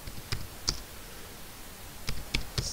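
Quiet computer keyboard typing with a few scattered key clicks in two short bursts, sparse and close, with no talking.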